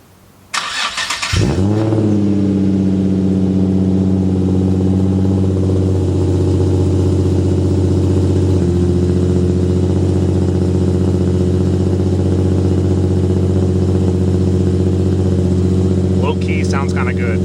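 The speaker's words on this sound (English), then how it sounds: "I'll do a quick startup in a sec and hear how it sounds with the test pipes" A Nissan 350Z with Circuit Werks exhaust test pipes cranks briefly and fires up, then settles into a loud, steady, rumbling idle that holds close by for the rest of the time.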